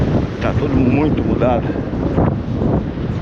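Strong wind sweeps along a beach on the coast of southern Brazil, roaring loudly against the microphone in a steady, close rush while a person talks over it.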